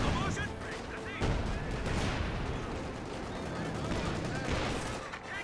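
Dense, continuous game battle noise from Company of Heroes 2 with repeated gunfire and artillery blasts, a barrage striking around a Panzer Fusilier squad, loud and sustained with overlapping shots and bursts throughout.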